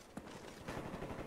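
A rapid burst of AK-47 automatic gunfire in a shooter video game, quick faint cracks in a tight rhythm lasting about a second.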